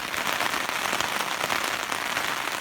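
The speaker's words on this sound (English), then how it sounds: "This is a nice, quiet sound of rain on the tent." Rain falling on a tent while backcountry camping in grasslands, a dense, steady patter of drops on fabric, close and continuous with no voices.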